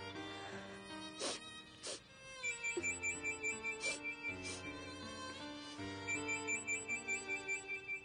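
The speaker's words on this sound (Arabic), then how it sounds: "جمال اللي على التليفون" A telephone rings with a melodic electronic ringtone, its bright repeating phrases rising and falling over about eight seconds, with no voices present.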